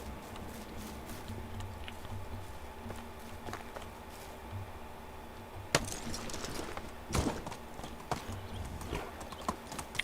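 Horse hooves clip-clop at speed in the video game Medieval Dynasty, a steady rapid beat of hoofbeats over a low ambient hum with a few louder thuds.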